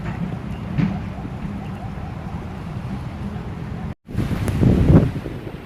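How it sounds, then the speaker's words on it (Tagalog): Strong storm wind buffets the microphone in a steady roar with gusts, cutting out briefly before returning louder. "Grabe, lakas ng hangin"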